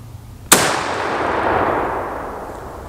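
A single sharp, loud shot from an Enfield No.4 Mk1 rifle in .303 British, fired outdoors, with a sudden crack and a long rumbling decay.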